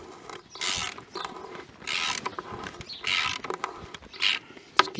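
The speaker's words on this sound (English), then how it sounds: "You can actually feel the grit when you're turning this, so you know the bolt's starting to go into the concrete." A bolt being turned into a concrete wall while fitting a 4x4 fence post, heard as a repeated gritty ratcheting scrape in rhythmic strokes, close and fairly loud, with no voices.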